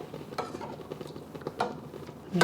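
A spoon stirs pho broth seasoned with salt in a pot, giving soft scraping and clinking touches against the metal at close range, with a couple of sharper knocks near the end and no talking.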